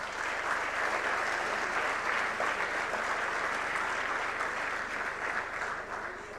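Sustained, even applause from an audience at a panel discussion, loud and continuous throughout with no talking.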